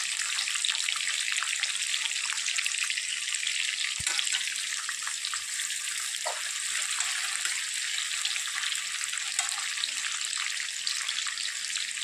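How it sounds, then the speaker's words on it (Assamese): Onions frying in a pan for a mixed vegetable paneer curry: a steady, bright sizzle holds evenly throughout, with a few faint clicks and knocks of the pan underneath. "পিঁয়াজখিনি অলপ কালাৰটো চেঞ্জ হোৱালৈকে মই অলপ সময় ভাজিম"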